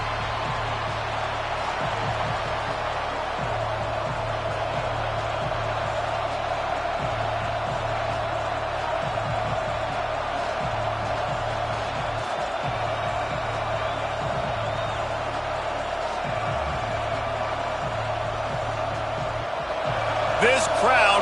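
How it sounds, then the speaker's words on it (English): College football stadium crowd roaring in a steady, loud wash of cheering for a season opener, with a commentator talking over it throughout. "This crowd bringing an ear-splitting welcome to their visitors."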